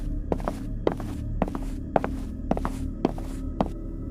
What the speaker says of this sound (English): waking in the dead of night to the sound of footsteps pacing outside his